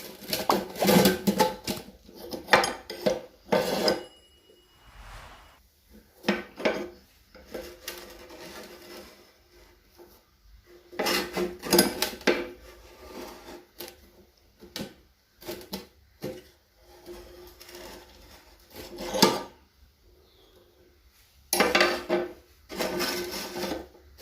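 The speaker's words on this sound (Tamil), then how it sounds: "அதனால் வந்து நம்ம 2 போல்ட் எடுத்து வச்சு நம்ம டைட் வைக்க போகிறோம்." Two bolts are tightened to fit a new blade into a Butterfly B-591 heavy duty mixer jar, giving intermittent bursts of close metallic clinking, rattling and scraping separated by quiet pauses.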